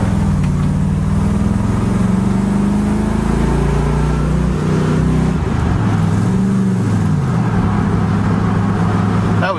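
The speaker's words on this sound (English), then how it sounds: "I started out in low gear there. Tranny does shift good." A 1965 Ford station wagon engine drives off in low gear, its loud, close drone climbing in pitch before the transmission shifts and the note drops and settles, heard alone without talk.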